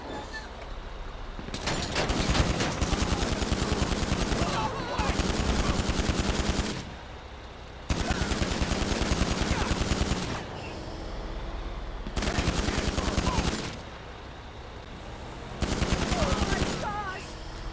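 An AP pistol fires in long rapid automatic bursts in GTA 5 Online. The loud, dense strings of shots last a few seconds each and are split by short pauses, with faint talking underneath.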